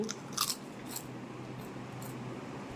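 A boy bites and chews fried fish close up, a few crisp crunches early on, then softer, quiet chewing over a faint background hum.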